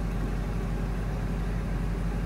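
A car engine idles low after its idle was dropped about 100 RPM, a steady, even low rumble close by with no voices.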